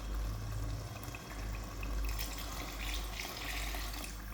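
Water gushes steadily into a pot of cooking white beans (lobia), a continuous splashing pour that stays fairly loud and even throughout.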